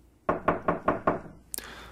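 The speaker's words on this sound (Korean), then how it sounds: "그는 문을 두드렸다." Knuckles rap on a wooden door five times in a steady, even rhythm, crisp and close, as a radio drama sound effect, followed by a faint click.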